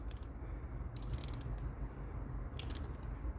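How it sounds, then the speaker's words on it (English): A spark plug on a 2009 Toyota Camry 2.4L is tightened with a ratchet, two short clusters of quick metallic clicks over a low background hum, close and fairly quiet. "Feel the washer compressing, and then a little resistance there, and we're in."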